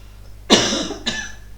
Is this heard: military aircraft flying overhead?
no